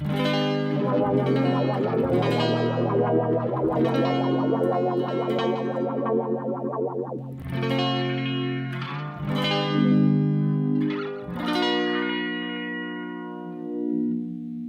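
Distorted electric guitar notes ring out through a Line 6 M9 delay, with echoing repeats trailing after each phrase and the pitch bending as the delay time is adjusted.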